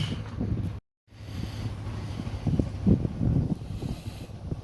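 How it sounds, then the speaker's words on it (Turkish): Steady wind blowing with low rumbling gusts at a seaside campsite at Kille Bay, Muğla, broken by a brief silent gap, rising and falling over several seconds outdoors. "Biraz rüzgar var ama"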